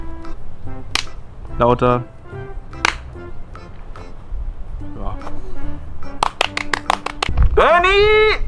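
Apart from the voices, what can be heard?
hand clapping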